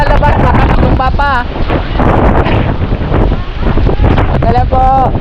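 Strong typhoon wind buffets the microphone in loud continuous roaring gusts, with people talking over it in short bursts.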